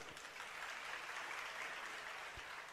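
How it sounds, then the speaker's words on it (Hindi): An audience at a Hindi religious discourse by Acharya Vidyasagar claps together in a steady, dense round of applause, evenly sustained and moderately distant. "हाथ अपने आप तो ताली नहीं बजा सकते, किसने कहा है ताली बजाओ?"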